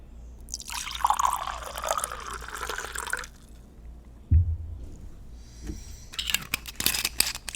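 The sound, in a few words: drink being poured into a glass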